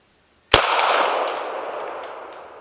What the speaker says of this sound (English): Let's do one more to verify. Again, second shot, 3 yards.